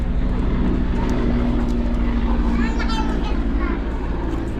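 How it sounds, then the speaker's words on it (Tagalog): An airplane drones steadily overhead in an outdoor setting, a broad continuous roar that holds throughout while people talk nearby. "Aeroplano?"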